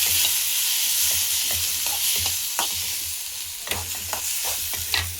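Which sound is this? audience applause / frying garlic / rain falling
frying garlic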